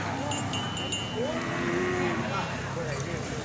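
A water buffalo at a Thai livestock market lets out a long, low moo over steady background crowd noise, with a faint bell-like ring early on.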